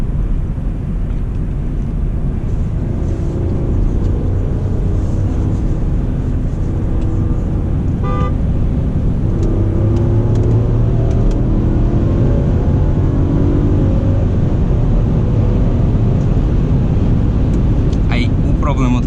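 A 2013 Mercedes GL450 V8 turbo SUV travels fast on the autobahn, a loud, steady engine and road roar lasting throughout with no breaks, and a voice talking over it.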